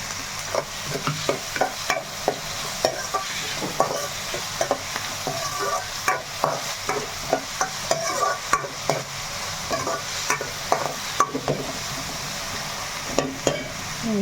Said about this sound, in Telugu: చక్కగా వేగుతున్నాయి కదా